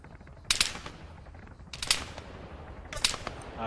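Gunfire in the Arma 3 video game, King of the Hill mode: three separate bursts of sharp shots around the half-second, two-second and three-second marks, moderately loud against a quiet background.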